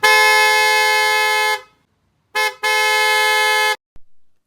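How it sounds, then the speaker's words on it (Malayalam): A Black Pearl aftermarket car horn fitted to a 2024 Maruti Baleno blares loudly and alone in a long sustained blast, then one short toot and a second long blast. "നല്ല ബ്ലാക്ക് പേൾ എന്ന് പറഞ്ഞൊരു ഹോൺ നമ്മൾ ഇൻസ്റ്റാളേഷൻ ചെയ്തിരിക്കുന്നത്."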